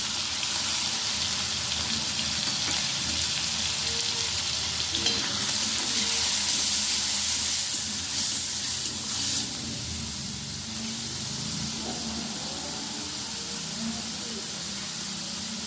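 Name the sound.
onion paste and ginger-garlic paste sizzling in pan after fried potatoes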